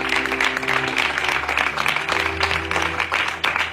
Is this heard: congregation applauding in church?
yes